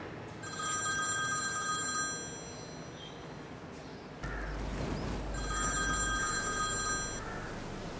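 A telephone rings in two long, trilling bursts with a pause between them. A low thump and some background noise fall between the rings.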